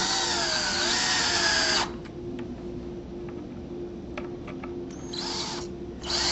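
A power drill whines loudly as it drives screws into a wooden shutter frame, then drops to a quieter hum with scattered ticks before short bursts of renewed drilling.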